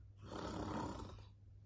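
A narrator's voice imitates Mrs. Bear snoring, one long, breathy, rasping snore that swells and fades, fairly quiet and alone.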